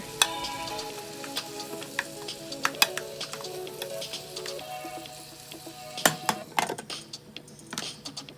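Potatoes and caramelized onions cook in a skillet with a low sizzle, and frequent sharp clicks and scrapes of a utensil against the pan get busier toward the end.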